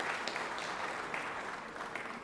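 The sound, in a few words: audience applause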